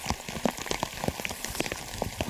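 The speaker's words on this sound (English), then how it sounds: "it's raining." Rain pattering on a surface near a hillside front line, a close and irregular scatter of drops and splashes over a soft steady hiss, with no talking.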